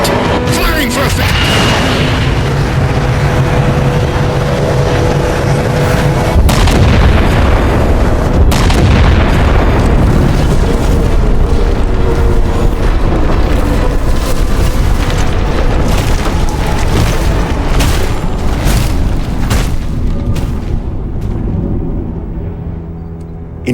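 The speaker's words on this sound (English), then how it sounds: "Target locked. Firing for effect." A warship opens fire on a locked target in the Halo 4 game, heavy booming artillery and rolling explosions filling the space in a continuous loud roar before tapering off at the end.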